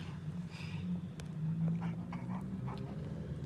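A fussy dog whimpers indoors, giving short, faint whines and yips over a low steady background hum.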